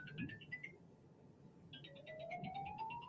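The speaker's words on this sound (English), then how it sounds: "Who lets a phone ring that long?" An electronic ringtone-like trill repeats in two bursts with a gap between, while a rising whistle-like tone sweeps upward under faint background noise.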